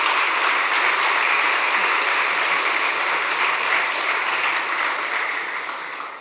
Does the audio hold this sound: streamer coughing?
no